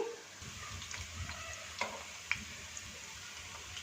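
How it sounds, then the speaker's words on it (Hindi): Dal koftas fry in oil over medium-low heat with a quiet, steady sizzle, broken by a couple of soft clicks from turning them. "मीडियम लो हीट पे इनको फ्राई होते तकरीबन 6 मिनट हो चुके हैं"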